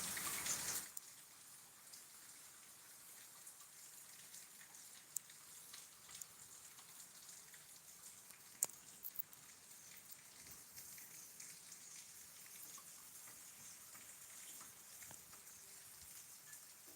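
Heavy monsoon rain falls steadily around a house, a dense hiss of drops with occasional louder splats, no one speaking.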